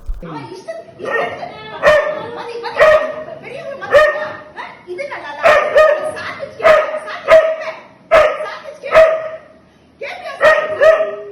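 Rajapalayam, a native Indian dog breed, barks repeatedly in loud, close bursts with short gaps, mixed with yips and whimpers.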